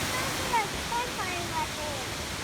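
Steady rushing water from a waterfall in Pisgah National Forest, North Carolina, a constant broad roar close by with faint bird chirps on top.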